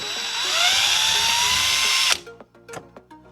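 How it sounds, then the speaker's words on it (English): A power drill whirs steadily for about two seconds as it backs out a panel screw on a 2018-2024 Subaru Crosstrek or Impreza rear gate, then stops and is followed by a few light clicks and handling taps. "I brought the drill with me,"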